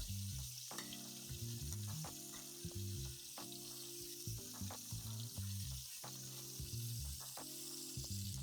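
Oxtail sears in oil in a hot pan with a loud, steady sizzle, broken by the periodic scrape and clatter of the pieces being moved around; no talking.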